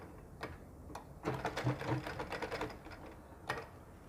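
A sewing machine stitches two fabric pattern pieces of a ladies' sleeve together, running in a quick rattling burst after a few soft clicks, then stopping, close and fairly quiet.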